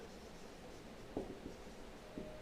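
A question is being written on a classroom board: faint, sparse taps and scratches of the writing stroke against low room hiss, with no talk.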